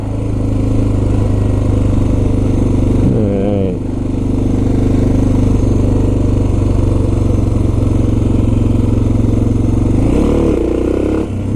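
A Suzuki DR650 motorcycle engine drones loudly and steadily up close, with brief revving swells near the start and end of the run.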